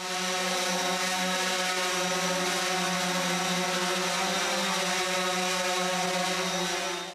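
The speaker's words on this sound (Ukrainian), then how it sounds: "біля зображень солдатів, які є на стіні, літає квадрокоптер." A quadcopter drone flies near images of soldiers on a wall in an art installation, a steady loud whirring drone with layered harmonic buzz held for several seconds, no speech.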